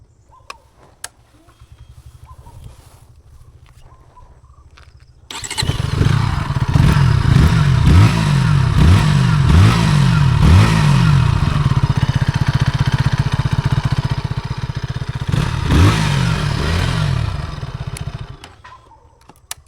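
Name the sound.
KTM Duke 160 motorcycle engine and exhaust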